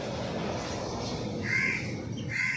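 A pet parrot gives two harsh, crow-like calls over steady room noise, each short and fairly close.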